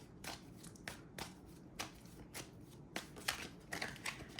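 Tarot cards riffled and shuffled by hand, a series of quick papery bursts in an uneven rhythm, close and fairly quiet, with no voices.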